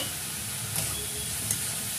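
Fish head and mixed vegetable curry with salt being stirred in a pan, a steady sizzling hiss with a couple of soft scraping stirs.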